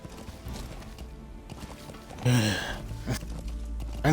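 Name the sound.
horse hooves galloping in video game Metal Gear Solid V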